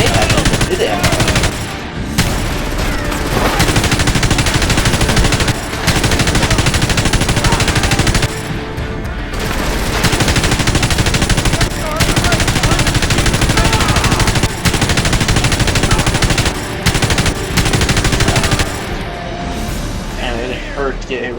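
Sustained heavy machine gun fire in the war video game Frontlines: Fuel of War, loud dense bursts with brief pauses between them, up close, with a player's voice talking over the shooting.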